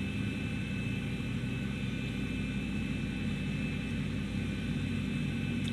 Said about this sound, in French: Le moteur qui se lance.